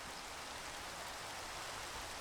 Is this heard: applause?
no